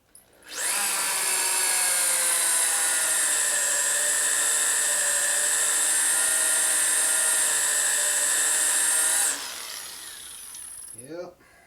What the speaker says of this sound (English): Now that one I want to drill for some reason.